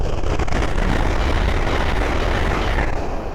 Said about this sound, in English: the next train to pass by is a Lumo 803.